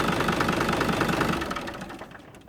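A Kubota tractor's diesel engine, recently fire-damaged, runs loud and close with a rapid, rough knocking chug that fades slightly toward the end.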